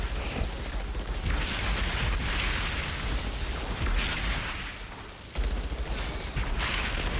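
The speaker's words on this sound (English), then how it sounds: "So I pull out my rifle. Once I pull out my rifle, one hit," Rifle gunfire in the Outriders video game, a dense and loud barrage of shots and booming impacts over continuous roaring combat noise, with a brief dip before the firing resumes.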